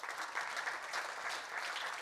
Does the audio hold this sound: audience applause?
yes